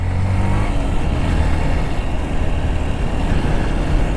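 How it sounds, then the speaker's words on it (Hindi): A Yamaha FZS V4 motorcycle engine rumbles steadily at close range, a deep, bassy idle with low throbbing pulses and no talking. "इसका साउंड भी थोड़ा सा बेसी है"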